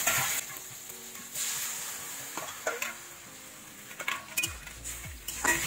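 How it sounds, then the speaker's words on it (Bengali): Water tipped into a hot pan of potato and aubergine khoyra fish curry, sizzling and bubbling with stirring and the clink of a utensil against the pan, steady and close with no talk. "এখন জল দিয়ে দেবো।"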